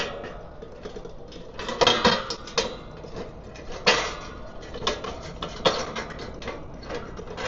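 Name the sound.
metal lid of a kerosene heater rotated onto its handles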